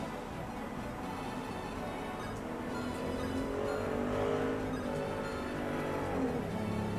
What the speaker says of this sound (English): that's the first really loud car that has passed by